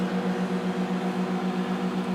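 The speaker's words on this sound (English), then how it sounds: "you can stand in front of the microwave" A microwave oven heating hollandaise or béarnaise sauce gives a steady, loud mains hum with a faint pulsing rise and fall, running alone without any talk.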